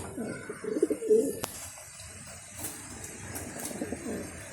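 Racing pigeons in a flying loft coo in low, rolling bursts close by, with a sharp click and faint background rustling between the calls.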